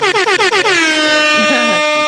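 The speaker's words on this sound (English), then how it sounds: "We give air horns." A loud air horn blares, first in several quick rhythmic pulses and then in one sustained blast that trails off.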